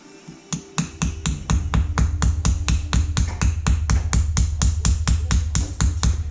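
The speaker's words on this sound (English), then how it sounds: "I like to give it a couple of light love taps on either side" A hammer taps brass pins on a knife handle to peen them, delivering a quick, steady run of sharp, bright metallic taps, close and evenly spaced, roughly four or five per second.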